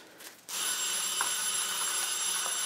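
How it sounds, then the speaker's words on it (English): A steady electronic oven timer alarm rings continuously after a brief quieter moment, a bright, persistent tone close by. "I hear an alarm ringing."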